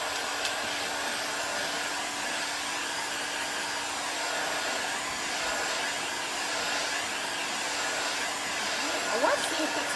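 A heat gun blows hot air onto paint for a crackle finish, a steady loud airy roar held unbroken throughout with no talking.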